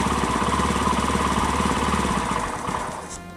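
A Saito 1.20 four-stroke glow engine on a quarter-scale Bud Nosen Aeronca Champ model airplane idles with a steady, even low putter, close and loud, then slows and fades as it is shut off.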